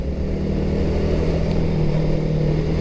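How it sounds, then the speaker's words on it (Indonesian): A noisy truck passes close on a road, a loud continuous engine roar and rumble that fills the whole moment and stays near, with no talk over it. "Anjir, ini truk berisik nih, bentar ya."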